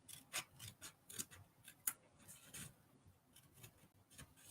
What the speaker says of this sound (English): I'm just going to use my shaky hand scissors